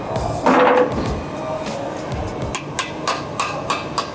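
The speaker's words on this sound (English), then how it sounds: "Did have to tap that one in with the hammer" Several light metallic hammer taps ring out as a bolt is tapped into a billet alloy lower control arm, spaced unevenly and then quickening toward the end, with a louder clank early on.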